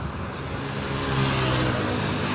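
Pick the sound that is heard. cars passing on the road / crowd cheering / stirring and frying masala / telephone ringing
cars passing on the road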